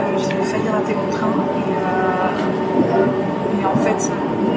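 Interior of a Japanese express train in Mie Prefecture while riding, a steady rumbling ride noise with rail hum and faint clatter, continuous and fairly loud, with a voice audible in the background.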